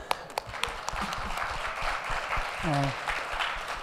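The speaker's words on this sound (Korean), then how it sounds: "축복하겠습니다. 박수." A congregation at a Sunday worship service claps in blessing: moderate, steady applause with a few distinct early claps, while a voice briefly sounds over it near the end.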